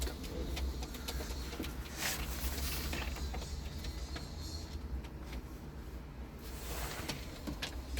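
A male smoky (dumanlı) pigeon, a Doçka-line bird, gives soft, faint coos amid clicks and light creaks of a loft or cage, with a low steady background hum and no clear voices.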